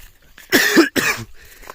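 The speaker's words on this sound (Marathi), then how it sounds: "थोडासा खोकला लागल्यामुळे" A couple of sharp, close coughs in quick succession, followed by a faint throat-clearing rasp.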